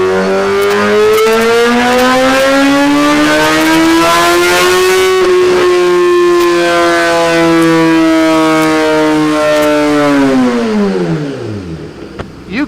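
A 2017 Suzuki GSX-R1000 motorcycle revs hard on a dyno, its engine note climbing in a long, loud, rising howl that holds high before dropping away near the end, close and dominant.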